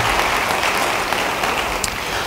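Church congregation applauding their pastor during a sermon, a steady wash of clapping that holds at an even level throughout with no gaps, loud and close, no voices over it.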